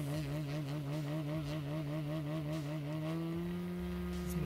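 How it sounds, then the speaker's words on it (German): A 3W 140 four-cylinder model aircraft engine turning an XOA 30x12 propeller runs at a steady, smooth drone, its pitch wavering slightly before settling into a higher, even tone, loud and close throughout. "Verbaut habe ich einen 3W 140 Vierzylinder in Kombination mit einer XOA 30x12 Luftschraube."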